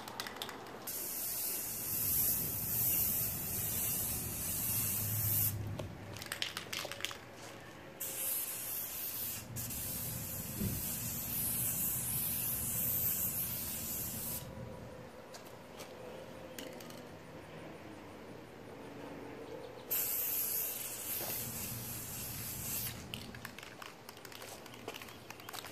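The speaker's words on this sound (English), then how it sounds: "So I'm just going to slowly apply this spray paint." A steady hiss of spray paint in long bursts while painting a Sony PVM monitor, stopping and starting several times, close by with faint background noise between sprays.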